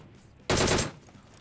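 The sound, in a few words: gunfire from another player in a video game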